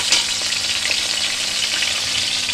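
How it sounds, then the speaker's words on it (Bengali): Cauliflower pieces frying in hot oil for khichdi give off a loud, steady sizzle that stays dense and close throughout, with no talking. "তারপরে ফুলকপিগুলো দিয়ে ভালো করে এটাও লাল লাল করে ভেজে নিতে হবে।"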